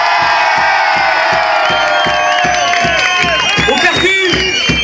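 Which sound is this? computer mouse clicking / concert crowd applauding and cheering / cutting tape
concert crowd applauding and cheering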